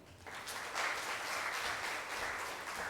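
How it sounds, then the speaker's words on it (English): Audience applause following a speech at a youth conference on kindness, a dense steady wash of many hands clapping, fairly distant and continuous for the whole stretch with no talk over it. "A big round of applause for a wonderful speech"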